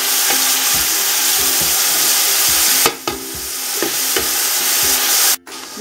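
Fresh onions frying in a pan for chicken and fish pastilla, a steady close broadband sizzle with stirring scrapes throughout, one brief dip midway and a short pause near the end.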